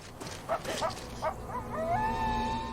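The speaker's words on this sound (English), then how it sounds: "suddenly hears the sound of wolves howling" Wolves howl in rising, wavering tones, a few short yips first, then a long drawn-out howl carrying over quiet background.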